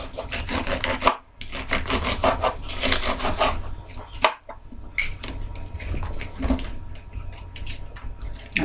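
A knife slices through a fish held steady with a fork for Jamaican escovitch, giving a continuous close rasping, rubbing scrape in long strokes with two brief pauses between them.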